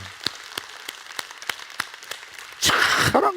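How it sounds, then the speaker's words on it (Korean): A church congregation claps during an evening worship service. A few scattered, separate claps ring out first, then the whole room breaks into a louder, fuller burst of applause near the end. "우리 박수로 하나님께 영광 한번 드릴까요?"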